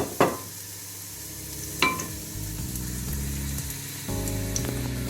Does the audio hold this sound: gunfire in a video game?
no